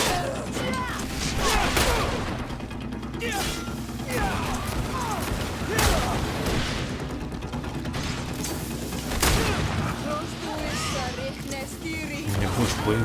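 Rifle gunshots in the video game Greedfall: a few sharp, loud bangs ring out several seconds apart over a dense bed of clanking mechanical game effects and music, with a voice talking.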